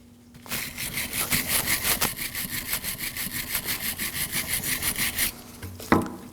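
Wire brush scrubbing the brake caliper bracket on a 2014-2020 Acura MDX, a steady rapid back-and-forth rasping close up for about five seconds, ending with a brief clank.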